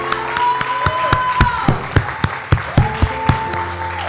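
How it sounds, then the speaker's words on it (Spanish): A church congregation applauds in a steady run of sharp, close claps with a few voices and a held musical tone beneath, lasting several seconds. "Vamos a aplaudir para que nos escuchen los que están detrás de la pantalla."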